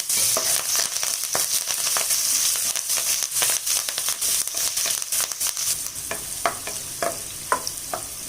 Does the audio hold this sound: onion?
yes